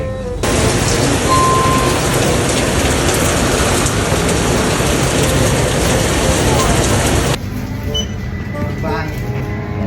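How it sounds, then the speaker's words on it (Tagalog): Heavy rain pours down in a dense, loud, steady hiss that drums on surfaces, cutting off abruptly near the end and leaving a quieter background with faint tones. "Stranded pa kami, malakas pa yung ulan."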